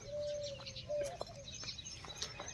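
Sparrows chirp near a bird feeder hung in the shade of a neem tree, a few faint, scattered tweets over quiet background hiss.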